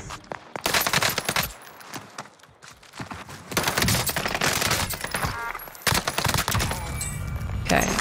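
MP40 submachine gun fire in Call of Duty Vanguard Warzone, close, loud rapid bursts separated by short gaps, with cracking impacts and game noise between volleys.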